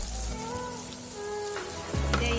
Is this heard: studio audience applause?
no